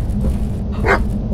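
A dog barks once in the horror video game Stay Out Of The House, a single short yip standing out over a steady low rumbling game background.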